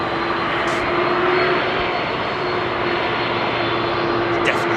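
An airliner with CF6 jet engines roars steadily on departure from runway 27R at London Heathrow, a loud continuous broadband engine rumble with a droning tone, while voices occasionally chatter nearby.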